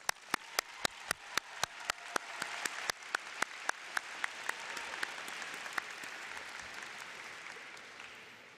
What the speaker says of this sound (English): I'd like to give a quick round of applause to all the faculty